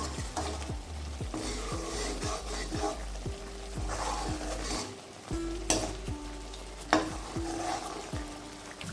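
Mung dal stirred into a spice paste frying in a pan for a Bengali fish-head mung dal, with a steady sizzle under repeated scraping strokes of a spoon against the pan, fairly close and without talk.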